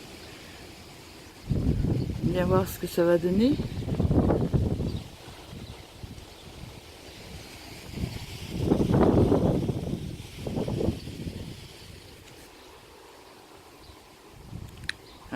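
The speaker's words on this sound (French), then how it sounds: "déjà le vent est super costaud" Strong gusty wind in a garden ahead of an approaching thunderstorm, rushing and buffeting the microphone beneath intermittent speech.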